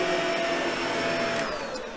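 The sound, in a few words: Shark Pet Pro ZU561 vacuum cleaner running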